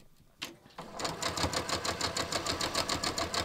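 A sewing machine runs at a steady, even rhythm as it stitches over fabric clips, with a brief click at the start before the needle settles into a close, repetitive chatter.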